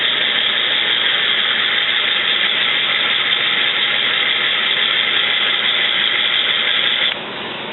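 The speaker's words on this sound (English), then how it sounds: "the actuator will rotate the shaft" Hammond two-position electric valve actuator motor rotating its shaft: a loud, steady high-pitched whine that runs unbroken for about seven seconds, then cuts off abruptly to a quieter hum.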